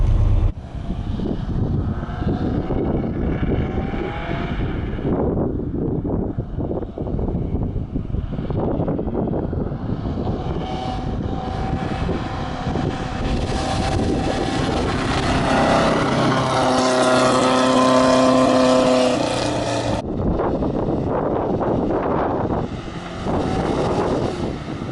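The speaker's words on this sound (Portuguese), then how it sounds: "exatamente na fase que o motor estiver na situação de falta absoluta de combustível" A loud car engine starved of fuel drones continuously, its pitch wavering and rising into a strained whine before dropping back to a rough, uneven rumble.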